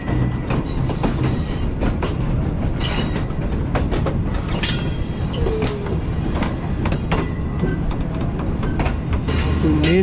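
The Green Line Express passenger train runs along a side line past the standing Baba Farid Express, with a steady rumble, rhythmic clickety-clack of wheels on rail joints and brief squeals, heard from on board.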